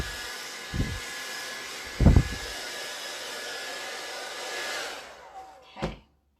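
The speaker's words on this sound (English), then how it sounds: "We'll take the blow dryer to it a little bit." A blow dryer blasts air over a chalk transfer on a Dollar Tree magazine holder, a steady loud whooshing hiss running for about five seconds, with a few low thumps and handling knocks, before it switches off.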